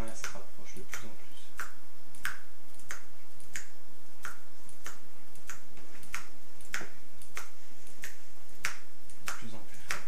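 Finger snapping repeats in a steady rhythm, roughly one crisp snap every two-thirds of a second, close to the mic over a low constant hum, with no talking during a stage hypnosis induction.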